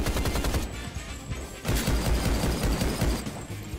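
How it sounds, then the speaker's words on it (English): Pistol gunfire in Rise of the Triad (2013) cracks out as rapid, evenly spaced shots in a dense, loud burst with a brief break midway before the firing resumes. "The audio on the pistols are horrible."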